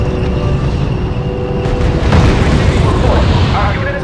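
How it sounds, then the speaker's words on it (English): Booming artillery explosions in the real-time strategy video game R.U.S.E., a dense rumble of repeated blasts under continuous battle noise with voices talking over it. "Sir, the Field Artillery Battalion is opening fire."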